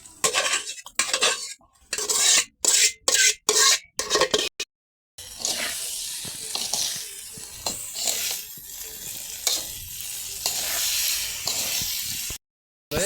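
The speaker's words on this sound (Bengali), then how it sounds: "আমি মাংস এখানে দিয়ে মিক্সার করে দেব" Meat and rice stirred together for biryani in a sizzling pot, with a spoon scraping and clinking against the metal in repeated strokes. The sound is close and is broken by several abrupt silent cuts.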